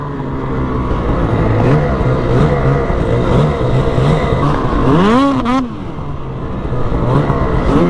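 A Ski-Doo Summit snowmobile engine labors at full throttle, droning unevenly and bogging before a brief sharp rev near the end, loud and close throughout.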